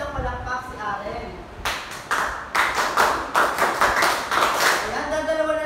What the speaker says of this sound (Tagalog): Bigyan din natin ng 11 palakpak si Aren.